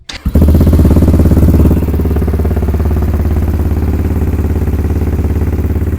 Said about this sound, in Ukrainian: давайте послухаємо наш вихлоп, який він перепакований